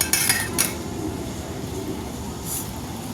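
Potatoes and sliced onions tossed together in a bowl for an evening snack, with a few bright clinks of a utensil against the bowl near the start and then a steady soft rustling and squelching of the mix.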